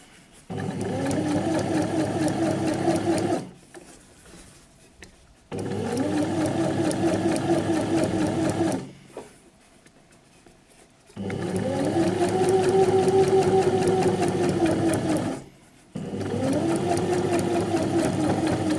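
A sewing machine stitching bias binding onto a neckline hums steadily in long runs of several seconds, stopping and restarting four times with quiet gaps between, close and fairly loud.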